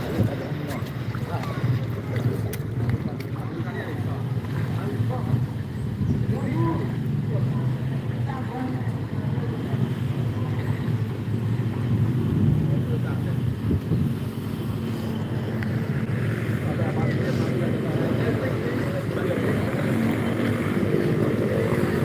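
A truck drives through roughly 20 cm of flood water on the Pantura road between Demak and Kudus. It makes a steady, rumbling wash of engine and churning water with wind buffeting the microphone, and voices are faintly present underneath.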